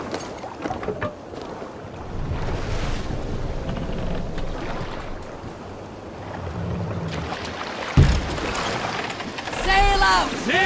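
A Viking longship sails out on open water in Assassin's Creed Valhalla. Steady wind rush and lapping waves run throughout, with voices heard over the sea noise and a sharp thump near the end.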